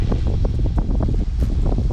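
Heavy wind buffeting a microphone outdoors at a model helicopter flying field, a loud, constant low rumble with gusty fluttering bursts and no voices.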